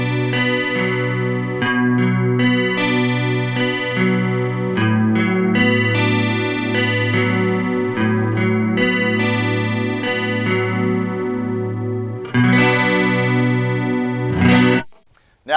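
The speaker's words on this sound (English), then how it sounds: "This produces a beautiful, nice chorus sound" Guitar run through an EHX Slammi polyphonic pitch shifter and harmony pedal set to a lush chorus, shimmering sustained chords ringing steadily and loud with a few chord changes, then a brief scrape near the end.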